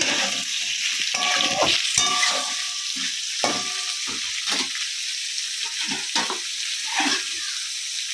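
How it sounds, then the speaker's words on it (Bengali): Mixed vegetables for Bengali shukto sauté in a pan over a lowered gas flame, with a constant bright sizzle and scattered clinks and scrapes of stirring throughout. "সব সবজিগুলো দিয়ে দিলাম এবার গ্যাসটা কমিয়ে একটু সাঁতিয়ে নেব"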